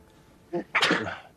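A single close sneeze: a short sharp intake followed by a loud, explosive burst that trails off quickly, with quiet room tone before and after.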